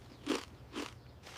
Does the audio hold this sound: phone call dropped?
no